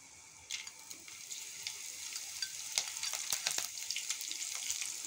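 Finely chopped green chilies and very finely chopped ginger hit hot oil in a pan for a Rajasthani kadhi. The sizzle starts suddenly and builds into a steady crackle with light stirring scrapes, and no one speaks.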